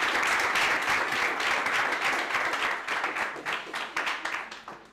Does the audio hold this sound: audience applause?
yes